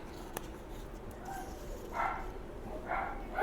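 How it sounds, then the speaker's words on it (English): Dogs barking around a suburban neighbourhood, a few distant barks coming in short bursts over steady background noise. "they've all arrived and they got all barking dogs."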